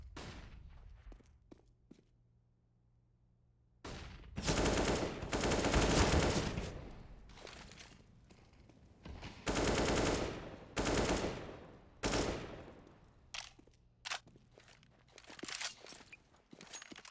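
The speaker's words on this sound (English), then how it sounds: "stray bullets flying left and right" Gunfire bursts out in a Counter-Strike match on the Mirage map. After a quiet start with faint footsteps, several loud rapid volleys of automatic fire follow, separated by short pauses, with scattered single shots toward the end.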